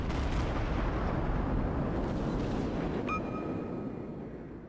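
Cleveland cruiser guns firing in World of Warships, heavy low rumbling booms of sustained naval gunfire with a short whistle-like tone near the end as the roar slowly fades.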